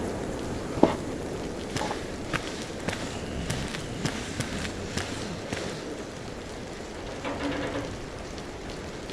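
Rain falling in the video game DayZ, a steady soft patter with scattered drips and light thumps, like footsteps on wet ground, moderately faint and continuous, with no talking.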